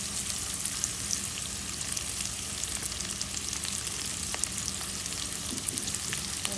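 Onions and green chilies fry in a pan with a continuous, even sizzle and faint crackles, heard close and alone with no voices.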